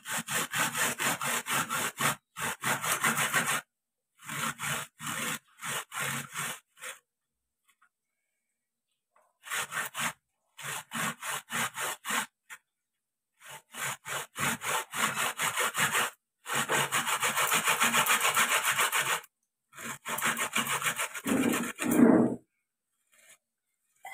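Ginger and garlic are grated by hand in close, rapid scraping strokes that come in repeated bursts separated by short pauses.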